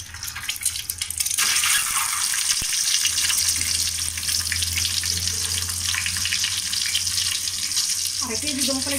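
Boiled eggs hit hot oil with turmeric and burst into a loud, steady sizzle that keeps going without a break after a quiet start.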